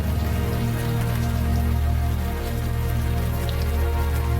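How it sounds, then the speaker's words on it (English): Steady warm rain falls in the video game Unavowed, a dense even hiss of drops that carries on unbroken, fairly loud and with no voices over it. "the warm rain is coming down"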